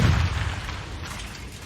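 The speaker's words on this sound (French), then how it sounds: "Une terrible explosion vient d'avoir lieu." A sound-effect explosion at the Nobel factory near Stockholm: a heavy low boom opening the clip, then a rumbling, noisy tail that slowly dies away, with no speech.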